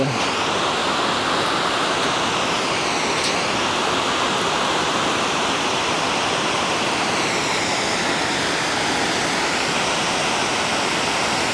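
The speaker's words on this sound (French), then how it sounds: "Donc une belle cascade." Loud, steady roar of a waterfall cascading into a mountain torrent, a dense unbroken rush of water that stays close and constant throughout, with no voices.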